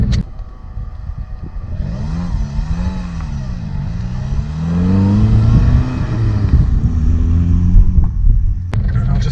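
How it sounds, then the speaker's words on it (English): An Audi A2 engine revs up and down close by, pitch swooping and climbing through a gear change into second, loud and continuous with no speech. "You can hear it revving a bit there."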